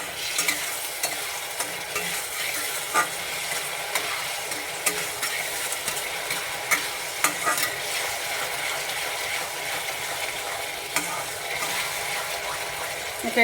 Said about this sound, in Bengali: এটা একটু ভাজা ভাজা হয়ে গেছে।